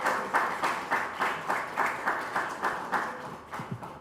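Applause for a presenter at The Tap Pitch 2025, heard as evenly spaced, pulsing claps that keep a steady beat for several seconds before thinning out near the end.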